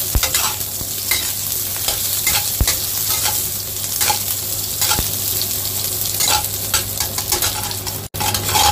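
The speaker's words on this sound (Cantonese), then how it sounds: "落啲 shallot、 咖喱、 蒜頭啦、薑， 爆香佢" Shallot, curry, garlic and ginger stir-fried in hot oil in a wok give a steady, close sizzle, with scraping and clatter from the stirring throughout and no talking.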